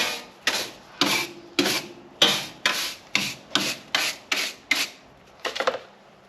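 An old brake caliper on a long-neglected, grass-overgrown Ford Falcon panel van wheel is turned by hand, giving about a dozen rough, scraping rubs in a steady rhythm, close and fairly loud, with no talk.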